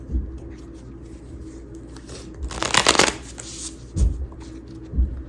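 Tarot cards are shuffled in a few short riffling bursts, a crisp flurry followed by softer taps and bumps, close and quiet between strokes.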